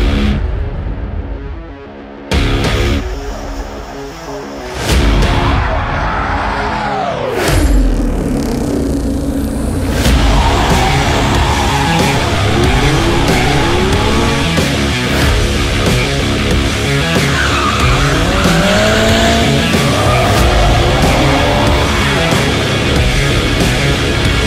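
Mazda MX-5 race cars battle BMWs on a circuit, a loud, dense engine roar with gear-change swoops and sweeping pitch shifts, heard close throughout after a brief quieter opening.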